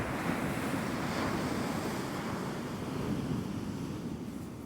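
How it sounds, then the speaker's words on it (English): Sea waves wash steadily onto the shore at Walcott on the North Norfolk coast at night, a continuous soft roar of surf mixed with wind noise on the microphone, with no talking. "I just had a couple of waves that come up a lot higher than anything else all night."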